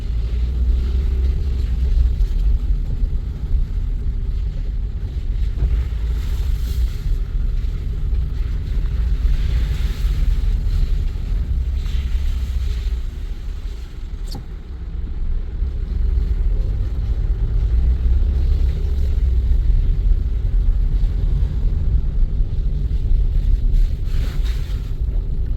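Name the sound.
Toyota car with semi-automatic gearbox driving on road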